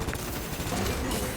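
Autocannon fire in the mech combat game Armored Core 6, a dense rapid burst of loud shots filling the whole moment without pause.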